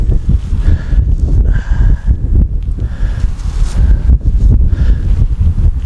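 Strong wind buffets the microphone outdoors at a manor house, a loud, continuous roar rising and falling in heavy gusts with no let-up and no voices.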